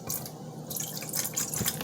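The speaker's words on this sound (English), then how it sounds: "We're just going to pour in a little bit." Apple juice poured into cake batter, a steady close trickle with light splashing and bubbling that goes on throughout.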